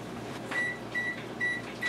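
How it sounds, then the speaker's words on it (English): A microwave oven hums steadily, with faint high tones pulsing on and off at a regular pace, quiet and close. "So pop it in the microwave."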